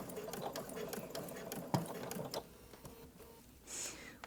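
Sewing machine fitted with a ruffler foot gathering and pleating ribbon onto fabric, a steady close mechanical whir with rapid ticking stitches and a few sharper clacks, heard alone without talk.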